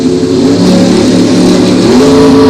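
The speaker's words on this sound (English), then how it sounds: "We got a drag race." Drag race cars at a bracket nationals event launch off the line, a loud, sustained engine roar with a rising pitch filling the whole stretch.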